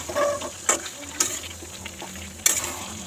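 Potato, eggplant and chicken curry being slowly sautéed in oil in a home kitchen, a low steady sizzle broken by a few sharp scraping stirs of the pan, close and moderately quiet with no talking.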